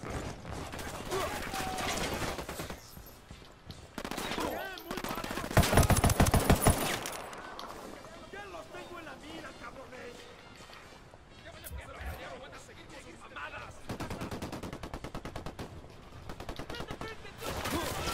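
Repeated bursts of automatic gunfire in the video game Ghost Recon Wildlands, loud and close, with dense volleys broken by brief lulls and players talking over the shooting.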